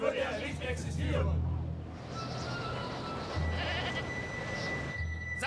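Goats bleat on a frosty Alpine pasture in a German football cartoon, their wavering cries loud at the start and again near the middle, under and between spoken voices with a steady background murmur.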